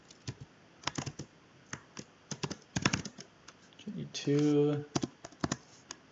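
Someone types on a computer keyboard in irregular bursts of crisp, close key clicks, with brief pauses between words and a person speaking in between.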